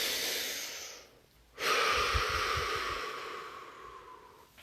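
Deep, slow breath drawn in and released during a guided relaxation exercise, a broad airy rush that fades briefly then swells again, close and steady with no talking.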